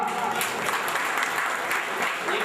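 An audience at a college award ceremony applauds students, a dense burst of clapping held at steady volume for a couple of seconds, with a voice faintly mixed in.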